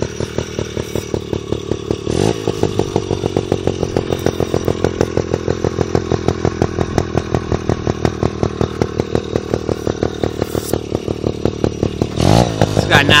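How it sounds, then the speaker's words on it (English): A 1980 Yamaha QT50 moped's small two-stroke engine with a dirt bike exhaust runs close by with a rapid, buzzy, popping exhaust rhythm, briefly revving up at the start and near the end. "It's got knobby tires on it and the dirt bike exhaust. Sounds pretty good."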